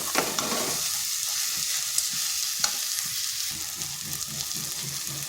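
A semolina dish stirred in a hot pan, a continuous sizzle broken by repeated scraping strokes of the spoon, close and clear with no talking.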